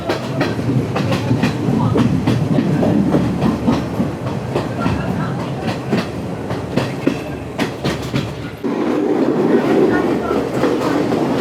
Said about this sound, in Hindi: पंद्रह बीस किलोमीटर की रफ्तार से चल रही है ये ट्रेन।